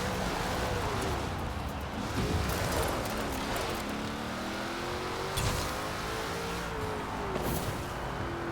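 A 2013 Ford Shelby GT500 on a drag-tuned pass in Forza Horizon 4, the engine revving loudly and climbing through rising pitch sweeps with shifts, sustained and close with no talk.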